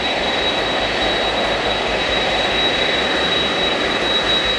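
Qantas jumbo jet engines roar during a ground engine run test at the jet base, a loud, steady, continuous broadband rumble with a sustained high whine, close and unbroken throughout.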